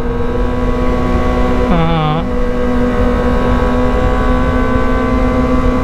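Kawasaki ZX25R motorcycle engine running at a steady high-pitched whine with a sustained tonal drone, briefly interrupted by a short voice, loud and close throughout.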